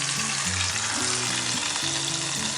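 A Cuban sandwich sizzles on a cast iron griddle, pressed under the weight of an iron skillet: loud, constant close frying hiss with low tonal rumbles and scraping shifts beneath.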